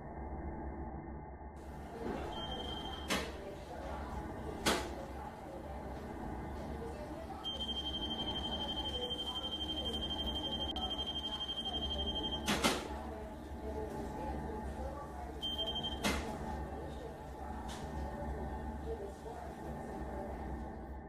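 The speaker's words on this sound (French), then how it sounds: "L'alarme que vous entendez est programmée pour se lancer que lorsque quelqu'un essaye d'ouvrir cette porte en la poussant." A door alarm rings out in bursts of steady high-pitched tone, set to trigger when someone pushes on the door to force it open, with quieter gaps between the bursts.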